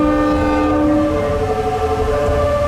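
A sustained, loud horn from the Train Suite Shiki-shima luxury sleeper train blares steadily throughout at a sound-horn sign, its steady tones held over the rumble of the moving train.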